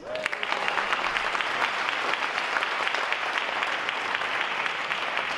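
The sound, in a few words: audience applause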